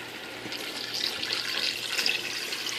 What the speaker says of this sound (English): So let's go ahead and add in the beef broth.